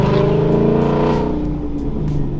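A Mustang GT with a manual MT-82 gearbox revs loud and close while gears are floated, a strong engine drone that rises and then eases off over a couple of seconds.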